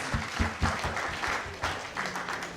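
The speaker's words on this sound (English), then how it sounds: "A round of applause, please." A crowd at an alumni ceremony claps in uneven bursts, moderately loud, with rhythmic pulses of clapping rising and falling across the moment.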